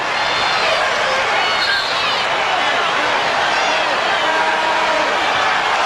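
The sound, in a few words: basketball arena crowd noise, Jazz home crowd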